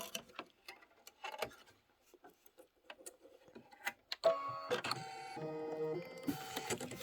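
A sewing machine sews the finishing stitch on a pumpkin-themed Kimberbell towel project: soft, scattered ticks and taps, then a steady mechanical whirring and stepping pattern that runs fairly loud through the last few seconds.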